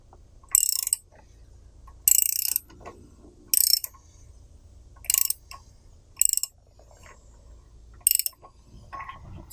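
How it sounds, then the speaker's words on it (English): Lifan KP Mini small engine crank turned slowly by hand, giving about six separate sharp mechanical clacks spaced a second or two apart, close up and otherwise quiet. "I'm going to try to turn the crank a little bit."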